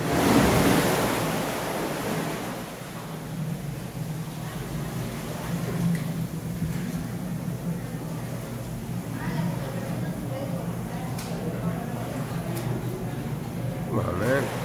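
Artificial waves crashing in a wave exhibit at the Shedd Aquarium in Chicago, a continuous rushing, surging wash of water with some wind-like noise throughout.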